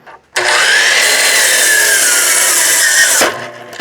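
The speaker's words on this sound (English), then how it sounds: "I don't even know if the miter saw is going to start." A miter saw slices through wood while running off a solar inverter under heavy load, giving one loud, steady, near whine-and-rasp cut of about three seconds that stops abruptly.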